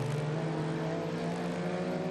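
Race cars at Sandown in a 1996 three-hour production car event, sweeping onto the main straight with a steady, loud engine drone that holds throughout, no commentary audible.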